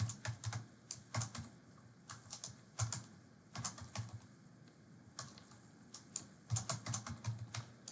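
Typing on a computer keyboard while entering a spreadsheet formula, close and moderately quiet, irregular bursts of quick key clicks separated by short pauses, with no voice.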